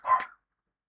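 A pet dog gives a single short, sharp bark nearby, clear and alone, lasting well under half a second before silence.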